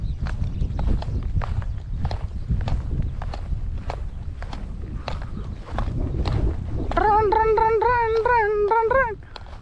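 Goats run on hooves, giving rapid irregular clattering steps close by in an outdoor setting, followed near the end by a brief bleat-like harmonic call over the footfalls.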